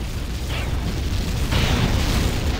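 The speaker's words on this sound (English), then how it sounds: "Enemy remote equipment destroyed." Enemy remote equipment being destroyed in the video game Tribes 2 during a capture-the-flag match, a dull, rumbling explosion with low booming noise that swells partway through.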